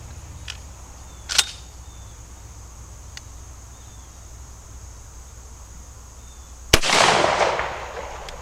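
A single loud shotgun blast fires Federal Premium Black Cloud 3-inch number 2 shot through a Carlson Cremator extended-range choke outdoors, a sharp crack with a rolling tail, after a quiet stretch of faint insect chirps and small clicks.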